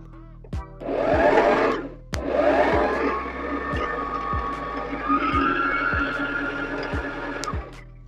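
Domestic sewing machine winding a bobbin, a steady whirring motor hum in short then sustained bursts, close and alone, with regular clicks throughout.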